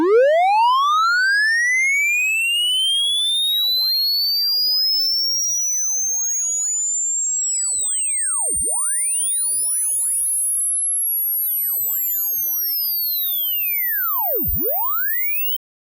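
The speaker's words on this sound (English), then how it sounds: "So again, I mean, we're getting a lot of those artifacts." Clipping artifacts from the Flatline clipper plugin on a synthetic test signal: rising and sweeping whistling tones with aliased, mirrored sweeps that dip and swoosh across the range, continuous and fairly loud throughout.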